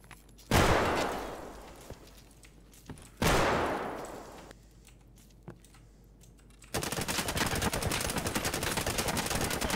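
A grenade goes off in the Escape from Tarkov video game: two sharp, loud blasts a few seconds apart, each with a fading tail, followed by a continuous harsh crackling roar.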